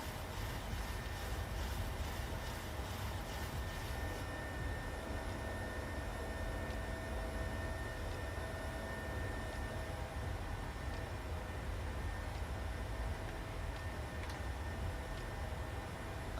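In a PMDG 737 flight simulator after takeoff, the trim wheel clacks in a rapid, repetitive rhythm for the first few seconds, then only a constant cockpit engine and air rumble remains.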